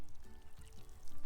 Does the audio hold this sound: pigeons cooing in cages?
no